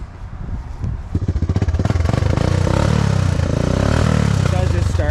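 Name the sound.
motorbike engine being started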